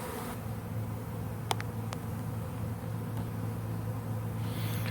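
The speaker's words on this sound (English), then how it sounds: "all the bees that were on the ground are starting to move up" A swarm of honey bees settling into a new hive outdoors gives a dense, continuous buzzing drone that holds steady and close throughout, with a few faint clicks over it.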